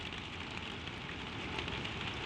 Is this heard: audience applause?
no